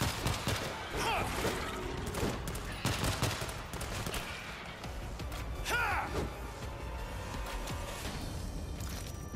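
Gunfire from the zombie shooter World War Z in a Tokyo setting, dense bursts and scattered shots running throughout over a busy game soundscape, with voices talking at moments.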